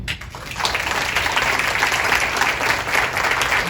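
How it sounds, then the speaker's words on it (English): An audience at a leadership awards reception gives the honorees a dense, sustained round of applause, fairly close and even in level, with no talk over it. "all of us, round of applause"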